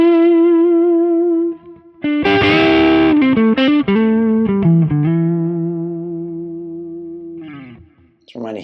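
An electric guitar on a Les Paul's neck pickup, pushed by a MESA Cleo overdrive used as a boost, rings out with sustained, slightly distorted notes and chords, loud and up front, with short gaps and decaying tails.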